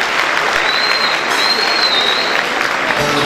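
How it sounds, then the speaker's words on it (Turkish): Steady, dense audience applause fills the hall as a student singer is welcomed on stage at a university Turkish folk music singing contest, loud and continuous throughout with faint crowd noise underneath. "şimdi de Ayaş Yolları isimli eseri seslendirmek üzere Sosyal Bilimler Meslek Yüksekokulu öğrencisi Seyhan Çiğçi'yi alkışlarınızla sahneye getirdik"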